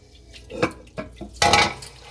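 White rice being rinsed for a rice cooker: a few short, separate sloshes and clinks of grains and water against a pot, close by, the longest splash near the end.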